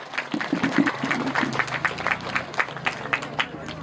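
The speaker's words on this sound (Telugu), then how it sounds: "కానీ సుధీర్కి ఇప్పుడు అందరు కలిసి ఒక చప్పట్లు కొట్టారు" An audience at a Sankranti rangoli competition event claps together for Sudheer, a steady patter of many hands under a voice talking over it.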